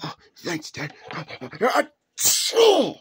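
People talk, then a single sharp cartoon sneeze bursts out close by, followed by a short voiced exhale.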